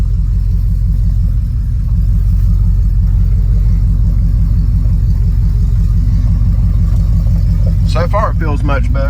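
A car engine hums steadily at close range, loud and even, as the car drives down a driveway; near the end a voice briefly speaks over the drone.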